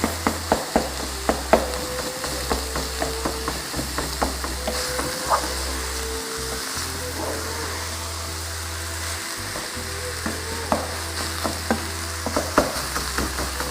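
Mince browning in a frying pan for mkate mayai, with a steady sizzle running throughout and repeated sharp scraping clicks as a utensil stirs and breaks up lumps, no talk.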